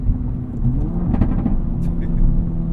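An Acura Integra Type S with a Milltek catback exhaust giving a deep, loud rumbling drone that rises a little in the middle, with a voice talking over it.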